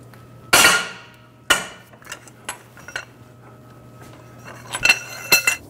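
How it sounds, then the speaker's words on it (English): A holder and 19 mm socket working a seized crank bolt loose on a 2003–2008 Honda Pilot: a few sharp metallic clanks and knocks, two loud ones early, then scattered lighter clinks and taps, close up in a quiet garage with no talking. "Using the holder and a 19 millimeter socket, we're gonna break the crank bolt free"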